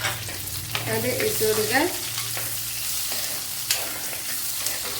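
Chopped onion drops into hot oil with garlic, ginger and chili and begins frying, giving a steady sizzle with stirring scrapes; someone speaks briefly over the cooking.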